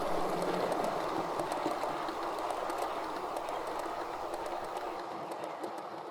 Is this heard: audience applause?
no